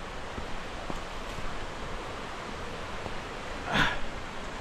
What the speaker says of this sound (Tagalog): Narinig nyo na guys ang hulog ng tubig